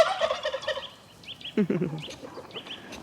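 Several turkeys gobble in quick warbling bursts close by on a homestead, with a lower rattling gobble midway and scattered higher calls around it.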